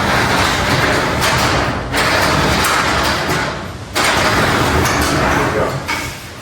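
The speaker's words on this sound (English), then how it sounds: "we're going to pick this door up to take the tension off of the springs" Garage door lifted by hand during installation of a new door, a loud rumbling roll of the panels in two long pushes with brief pauses between, no talking.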